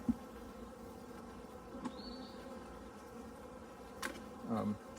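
Honey bees hum in an opened hive during a colony split, a steady close buzz with a few louder passes and faint knocks near the end.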